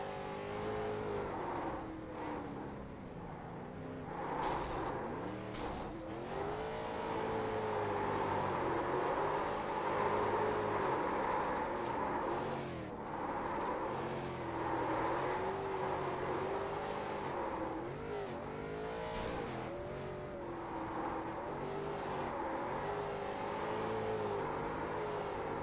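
A race car lapping a figure 8 track, heard from onboard, holds a steady engine drone whose pitch rises and falls as it accelerates and slows through the turns, continuous and fairly close.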